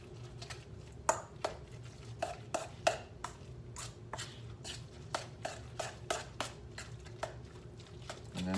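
A spoon working through a zucchini tot mixture with bacon bits and smoked paprika in a bowl, giving a series of soft scraping knocks and clicks at an irregular rhythm, close by and fairly quiet.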